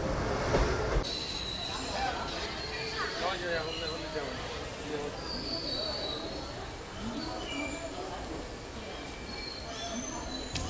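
Teesta Torsa Express train rolling into Malda Town station, a low continuous rumble of wheels and carriage noise with occasional squeals, heard from inside the train under background chatter.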